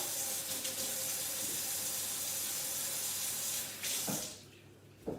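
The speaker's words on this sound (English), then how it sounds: "before you're cooking, you need to wash your hands. So I'm going to do that right now" Water runs steadily from a kitchen tap into a sink as hands are washed, a continuous close splashing hiss that cuts off near the end.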